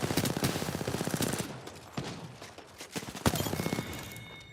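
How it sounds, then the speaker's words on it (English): Rapid automatic gunfire in Apex Legends, bursts of sharp close shots with brief pauses between volleys, a few heavier single cracks toward the end. "Opening fire."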